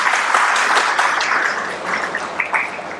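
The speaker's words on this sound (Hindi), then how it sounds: "ताली बजा दो अगर अच्छा लगे।" An audience claps continuously and fairly loudly as a dense, sustained wash of applause, with no voices over it, at a Hindi-language motivational talk.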